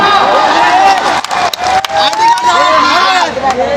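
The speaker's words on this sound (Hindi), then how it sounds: "ताली बजाओ" An audience at an outdoor stage show in Thakur Village, Kandivali East, cheers loudly in a dense, close crowd roar, with a few brief dips and scattered shouts.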